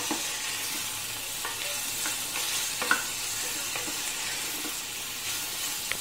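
Vegetables fry in a pan with a constant close sizzle while a spoon scrapes and stirs at irregular intervals, one brief louder knock near the middle, no speech.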